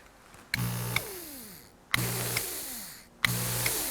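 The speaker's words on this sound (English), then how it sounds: "you can hear the vacuum sucking through it." Three bursts of loud rushing suction, each starting abruptly with a clunk, drawing air for about a second and a half before cutting off.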